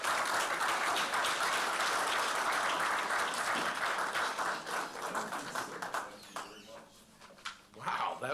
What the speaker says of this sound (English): with a big, big, big round of applause, Honorable Supervisor Joseph Saladino.